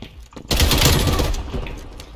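Gunfire erupts in Call of Duty: Black Ops Cold War, a loud close burst of rapid shots after a brief quieter lead-in, trailing off with echoing reports.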